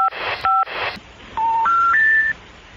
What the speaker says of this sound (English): I'm going to call Portland 911.